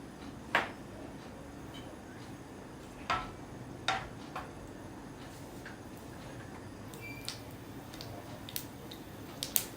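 Mustard seeds crackle and pop in a few spoonfuls of hot oil, giving scattered sharp clicks over a faint background hiss, close and fairly quiet.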